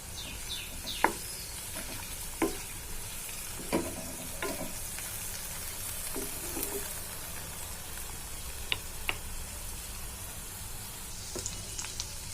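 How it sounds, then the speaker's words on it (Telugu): Tamarind, a lemon-sized lump, frying in a pan while green chillies are roasted for a ridge gourd yogurt chutney: a steady close sizzle with sharp crackles and pops scattered through it. "ఇందులోనే కొద్దిగా నిమ్మకాయ సైజు అంత చింతపండు కూడా వేసుకొని వేయించుకుంటాం."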